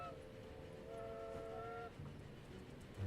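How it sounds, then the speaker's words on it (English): A train rolls along in a railway building video game, with a low rumble and a sustained, faint horn-like tone that holds for about a second before fading back into quiet running noise. "I hear train noises."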